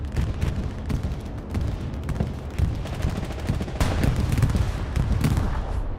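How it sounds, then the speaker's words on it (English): Bombing run in the video game Hell Let Loose: a continuous rumble of heavy explosions and booming impacts layered with rattling gunfire, loud and sustained across the whole stretch. "Bombing run inbound."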